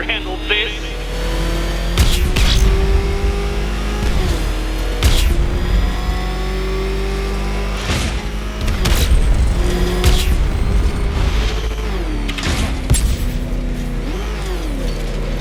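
Batmobile engine in the video game Batman Arkham Knight roars and revs steadily throughout, with sharp booming impacts and crashes at intervals, while a voice talks over the driving.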